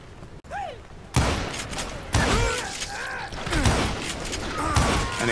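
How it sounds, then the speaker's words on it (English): Gunfire from the Western shooter Call of Juarez Gunslinger, a rapid burst of loud shots and ricochets followed by repeated blasts over a busy game soundscape with music, with no talking. "now that the shooting had started, there was no backing down"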